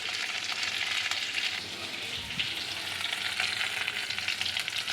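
Cauliflower pieces fry in a generous amount of hot oil in a home kitchen, giving a steady close crackling sizzle with occasional soft stirring, no voices over it.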